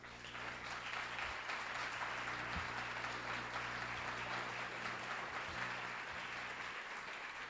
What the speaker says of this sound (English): I'm hoping everybody can give Bob a well-deserved round of applause.